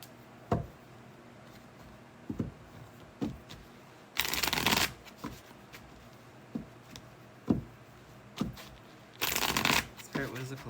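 Tarot cards being shuffled in quick bursts of riffling and tapping, close and fairly soft, with two longer riffles standing out among scattered taps and quiet talk.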